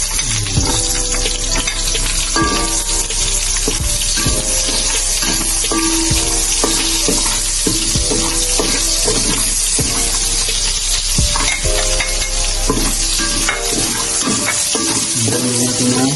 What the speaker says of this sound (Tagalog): Ang gagawin naman natin ay ilalagay na natin yung sibuyas at luya dito sa pinagprito natin ng bangus.